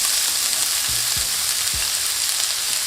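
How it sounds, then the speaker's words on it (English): Onions dropped into hot oil in a pan for chicken parmesan, a steady loud sizzle throughout with a few sharp thumps as the pieces hit the oil. "When the oil is nice and hot, in with your onions"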